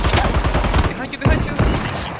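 Shotgun blasts in the battle royale game Super People 2, a rapid burst of loud, close booming shots fired in quick succession, several overlapping reports with brief gaps.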